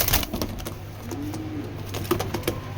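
A pair of Sobji racer pigeons coo close by, with a low rolling coo rising and falling, mixed with scattered taps and clicks in the background.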